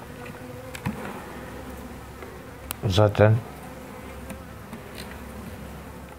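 Honeybees hum and buzz steadily around an open beehive during winter care, with a brief closer burst of buzzing and a few spoken words over the colony's drone.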